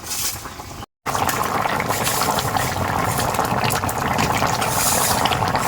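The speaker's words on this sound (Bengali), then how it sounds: "এইভাবে আমি 10 মিনিট ফুটিয়ে নিচ্ছি।" Curry with fish and taro bubbles in a pot, a loud, close, steady churning boil with a brief dropout near the start and no talk.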